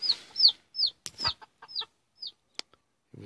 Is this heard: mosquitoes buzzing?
no